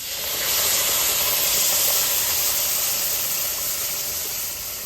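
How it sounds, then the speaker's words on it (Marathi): Hot water poured into freshly fried masala for a stuffed brinjal curry, setting off a loud, continuous sizzling hiss that swells quickly, holds steady and eases slightly toward the end, up close with no talking. "आता लगेच आपण त्याच्यात गरम केलेलं पाणी टाकणार आहोत"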